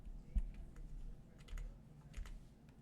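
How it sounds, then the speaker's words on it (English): Keys and buttons on a computer keyboard click in a quick irregular series, soft and close-up, with a few sharper taps among the lighter clicks and no speech. "If I can stop clicking random buttons."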